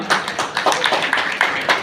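Short bursts of clapping from a crowd at a Vishwakarma Jayanti donation ceremony, loose and uneven hand claps rising and falling in quick clusters.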